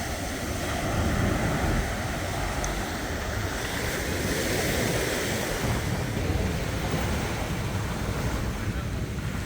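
Choppy sea waves washing onto the beach at Padangbai, Bali, a constant loud churn of surf with wind buffeting the microphone and no clear breaks between surges.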